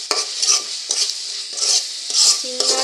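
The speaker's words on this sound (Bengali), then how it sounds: "এখন মশলার সাথে একসাথে কষিয়ে নিব" Spices are stirred and sautéed with kakrol (spiny gourd) and shrimp in a pan, about five loud, close scraping strokes over a constant sizzle, with a faint metallic ring at the end.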